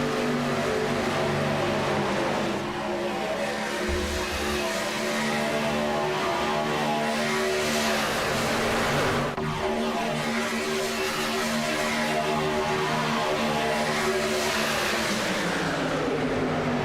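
Race cars driving in a short-track race, a loud continuous engine roar with shifting pitch as several cars pass close by, rising and falling over the whole stretch.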